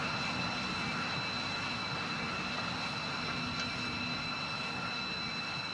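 A steady jet-like airliner engine drone in a flight simulator game, a constant loud hum with high whining tones that holds unchanged throughout, with no talking.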